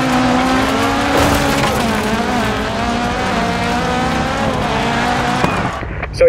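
Rallycross race cars launch from the start in DIRT 4: loud, dense engine roar with rising revs and squealing tires, sustained for several seconds before cutting off abruptly.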